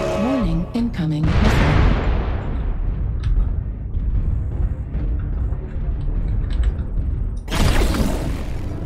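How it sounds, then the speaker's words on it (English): Booming artillery strike explosions in a video game, a heavy blast near the start followed by a dense, loud rumbling barrage with scattered impacts and another burst near the end. "Artillery strike online. Target acquired. Target destroyed."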